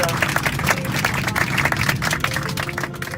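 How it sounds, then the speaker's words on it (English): An audience gives a warm round of applause to a veteran of the 442nd, many hands clapping continuously and fairly loud for a few seconds. "Can we please give him a warm round of applause?"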